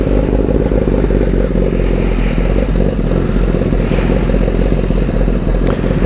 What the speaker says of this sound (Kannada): ಲೈಟಾಗಿ ಒಂದು ರೆಫ್ ಕೊಡ್ತೀನಿ